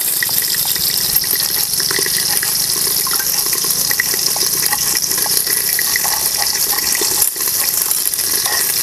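Tap water runs steadily into a sink while coriander is washed for a spicy brinjal chutney, a continuous close hiss and gush with a brief break near the end, no voices.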